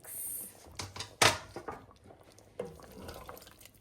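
A spoon stirs a pot of squash and lamb stew with cilantro and green onions, giving a few scattered clanks and wet scraping sounds at close range, fairly quiet overall.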